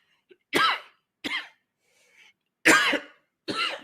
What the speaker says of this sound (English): they make me cough